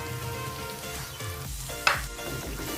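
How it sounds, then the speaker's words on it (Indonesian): Banana blossom fries in hot oil until dry and browned, giving a steady, dense sizzle with one brief sharp pop partway through and no voices. "Digoreng sampai kering, sampai kecoklatan."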